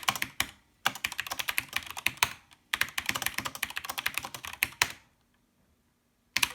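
Bursts of fast, clattering keystrokes on a computer keyboard at the console of a SWTPC 6800 system, close and crisp, broken by brief pauses and ending in near silence.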